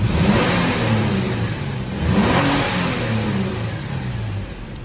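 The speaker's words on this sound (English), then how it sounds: "We're going to go ahead and give you a few revs." A 2015 Toyota Tacoma TRD Pro's 4.0-litre V6 engine revs up and down a few times in a rumbling rise and fall, loud and close, with no voices.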